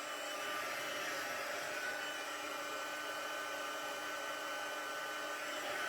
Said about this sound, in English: I'm just going to heat up my heat tool till it gets nice and hot